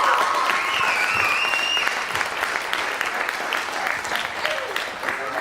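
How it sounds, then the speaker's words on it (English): Wedding guests burst into loud, sustained applause, dense clapping that holds steady and slowly eases, with cheers and voices rising over it near the start. "Come on, let's give her a big round of applause"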